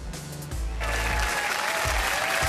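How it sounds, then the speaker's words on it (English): A large live crowd at the Gran Turismo World Tour Nations Cup esports event in Sydney cheers and applauds, swelling into a loud, sustained roar after a brief lower rumble. "can you hear the crowd on their feet?"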